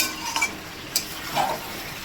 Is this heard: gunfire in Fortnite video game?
no